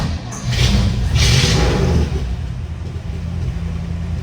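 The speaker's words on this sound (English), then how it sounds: "So clutch in, we'll give it a kick, and it turns over pretty darn easy." A 1965 Chevrolet C-10 with glass pack exhausts starts up, a thump and quick rev followed by a deep, steady idle rumble that stays loud and close without talk.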